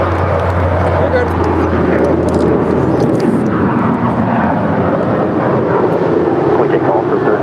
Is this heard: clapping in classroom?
no